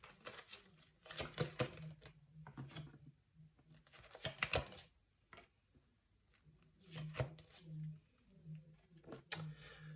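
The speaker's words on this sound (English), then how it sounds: "Let's quickly shuffle them again." Soft papery riffling and tapping of tarot cards being shuffled in several bursts, with quiet pauses between, close by and fairly faint.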